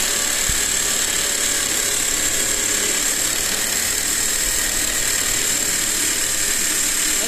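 A power drill runs steadily in hammering mode, a loud continuous mechanical whir with rapid percussive rattle that holds constant and uninterrupted from start to finish, with no talking.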